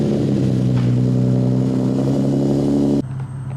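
Nissan 370Z engine running steadily with a loud, even, harmonic hum after new spark plugs, revs holding high, then dropping sharply near the end to a quieter idle.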